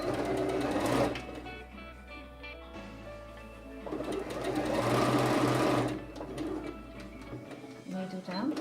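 A sewing machine stitches a zipped makeup bag in two rattling runs separated by a pause, close and loud, with a voice talking between the bursts and a pigeon cooing in the background.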